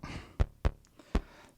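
Short, snappy synth blips from an Erica Synths Pico LPG low-pass gate with offset and decay turned down, three quick percussive plucks spaced irregularly over a faint background.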